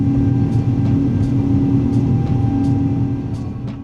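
Airbus A330 jet engines in a flight simulator game, a continuous low droning roar with a steady tonal hum, loud and unbroken, easing off slightly near the end.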